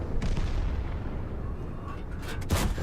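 A tank cannon fires in World of Tanks, a deep booming blast over a constant low engine rumble, with a sharper crack near the end.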